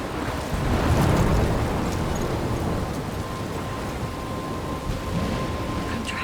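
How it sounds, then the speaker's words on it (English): A storm in the Life is Strange game, with a rumbling, roaring wash of wind, surf and rain that swells early and then settles into a steady, loud churn, with no talking. "I'm trapped in a storm?"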